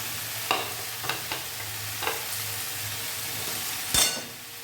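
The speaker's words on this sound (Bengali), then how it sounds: "লাউ দেওয়া হয়ে গেছে, এবারে এটাকে ভালো করে কষে নিতে হবে।" Bottle gourd being stir-fried with spices in a pan for a lentil-fritter curry, a few sharp scraping strokes of a spatula against the pan over a low steady sizzle, close and alone with no talk.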